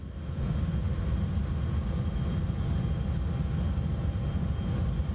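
Steady, continuous broadband engine roar of a FlightFX Cessna Citation X business jet in flight with flaps at 15, sustained and even at a moderate level with no talk over it.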